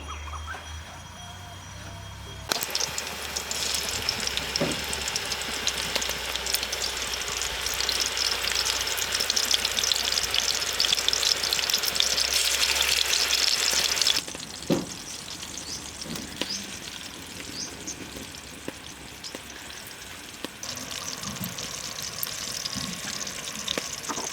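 Pounded quail meatballs fry in hot oil in a village-style kitchen. A steady, loud sizzle and crackle runs through the clip, swelling after the first few seconds, then easing slightly with occasional clinks.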